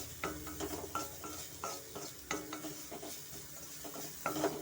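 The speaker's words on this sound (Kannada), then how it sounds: "ಗೋಡಂಬಿ ಎಲ್ಲ ಸ್ವಲ್ಪ ಚೆನ್ನಾಗಿ ಎಣ್ಣೆನಲ್ಲೇ ಫ್ರೈ ಆಗಬೇಕು" Cashews frying in oil in a pan for amla chitranna, a light sizzle under repeated close clicks and scrapes of a spoon stirring them.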